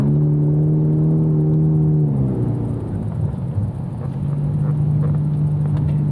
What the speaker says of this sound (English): It still sounds like a 4-cylinder,